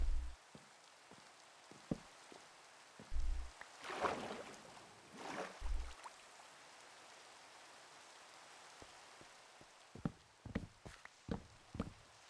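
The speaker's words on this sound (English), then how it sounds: "So this spot right here, it's raining" Rain in Minecraft, a soft continuous patter at the edge of a biome, with several dull footstep-like thuds and scattered clicks layered over it.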